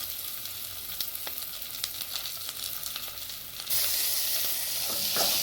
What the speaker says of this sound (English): I'm going to add crushed ginger and garlic so that they can now fry together.